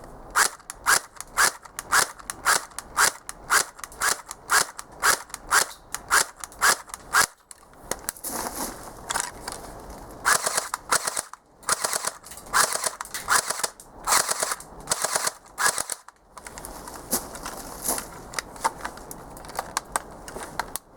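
A Double Eagle M83 airsoft gun fires, loud and close. A steady run of sharp single snaps gives way to rapid, dense bursts of cracking shots with brief pauses between strings.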